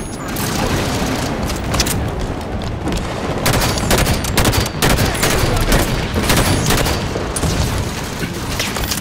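A grenade explodes amid a Halo 5 Warzone firefight, a heavy boom buried in dense, continuous gunfire and rattling weapon bursts, loud and close, with voices talking over the chaos.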